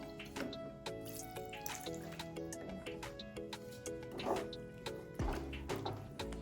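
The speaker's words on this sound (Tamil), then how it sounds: "இப்போ தண்ணி ஊற்றியாச்சு." Water is poured into a pan of fenugreek (methi) leaves cooked dhaba style, a steady splashing trickle that runs under continuous background music.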